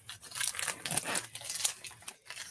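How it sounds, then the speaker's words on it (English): Scissors slicing and tearing open the plastic packaging of a stamp kit, a close, continuous run of crinkling and snipping with no talking. "So I'm just going to use the scissors here to open this one up."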